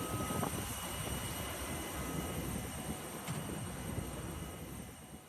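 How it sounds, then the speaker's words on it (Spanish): An airplane takes off at Aeroparque during a lightning storm, its engines a broad, steady roar that fades slightly toward the end. The rumble sounds distant and muffled, and no one speaks. "el momento exacto en el que varios rayos cayeron en Aeroparque mientras un avión estaba despegando"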